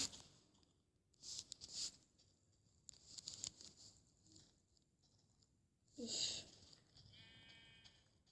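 Sheep in the mobile edition of Minecraft bleat in several separate bursts, close and fairly clear, with quiet gaps and soft game sounds between them.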